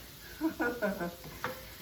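Bacon sizzles and crackles in a hot pan in short bursts, fairly close, with faint stirring and no clear voice.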